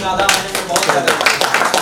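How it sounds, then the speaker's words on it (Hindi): Brief clapping from a mushaira (poetry recital) audience, loud and close, with a voice heard over it. "तालियां बजाइए भाई"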